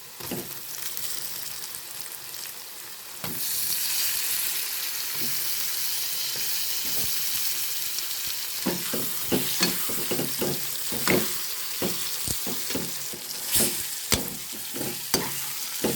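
Tomatoes sauté with browned onions in a pan for egg biryani, a steady sizzle swelling as they go in, then repeated scraping and clacking of a spoon stirring the mixture, close and fairly loud, no voices.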